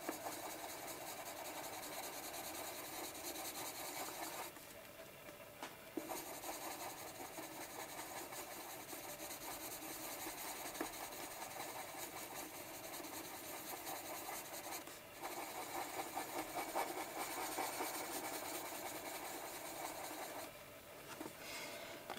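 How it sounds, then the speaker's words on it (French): Colored pencil shading a cute owl drawing with yellow and orange tones, a steady soft scratchy rubbing that runs continuously with a few brief pauses, close and alone without talk. "Je vais quand même un tout petit peu colorier ici."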